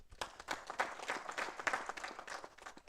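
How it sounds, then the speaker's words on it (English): An audience applauds business partners at a government trade ministry event, a moderate spread of many hands clapping in a rolling, uneven patter that carries on throughout. "Please give them a round of applause."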